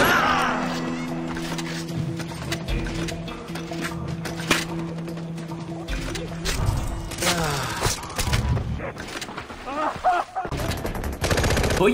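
Gunfire in Far Cry 4, rapid bursts of automatic shots and scattered single reports over a busy game soundscape, loud and continuous, with occasional voices in the background.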